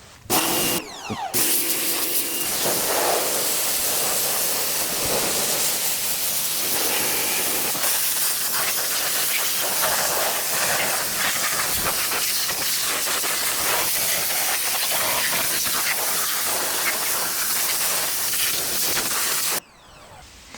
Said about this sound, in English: I want to try and use the pressure washer to clean that up